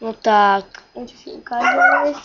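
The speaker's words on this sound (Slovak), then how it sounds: "Jaj, prepáčte za štekanie." A pet chihuahua yaps in short, high-pitched barks close by, overlapping with someone talking in the same room.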